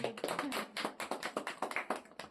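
College students clap their hands together at a birthday celebration, a quick, bright, uneven run of close claps sounding one after another with a few voices underneath.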